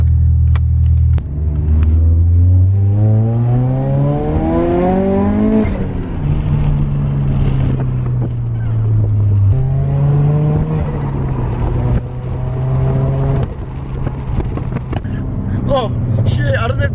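Revs from a lowered Toyota Crown fitted with a Golf engine rise and fall in several long sweeps, loud and close, with a steady idle rumble in between and voices talking over it.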